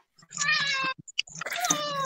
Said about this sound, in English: Did your cat just say hi to you when you came home?